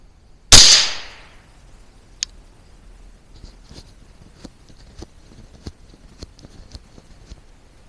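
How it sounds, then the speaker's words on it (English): A single sharp, loud rifle shot rings out near a red bullseye target while a Sightmark Wraith 4K MAX scope is zeroed at 50 yards, followed by several faint, scattered clicks and taps. "Let me go ahead and charge the gun. And I'm hoping just to shoot out the red bullseye here."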